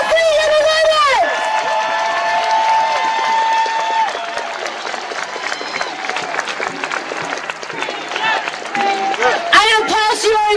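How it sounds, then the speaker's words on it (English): Large outdoor crowd at a freedom rally in Trafalgar Square breaks into sustained applause and cheering, dense clapping with whoops and shouts, loud and continuous, with amplified voices briefly at the start and end. "give them a massive round of applause"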